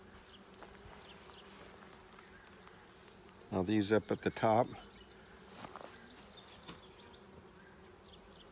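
Honeybees buzz around a hive frame of drone and worker cells, a low ambient hum broken by a loud close buzzing burst of about a second as a bee passes near, with someone talking quietly.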